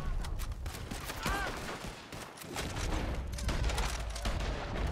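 Gunfire in Red Dead Redemption 2, a dense, loud volley of overlapping shots and cracks over a busy, rumbling background, with barely any pause across the few seconds.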